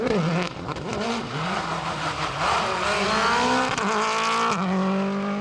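Rally car spinning on an asphalt stage, engine revving hard and fluctuating with tire squeal, loud and continuous throughout.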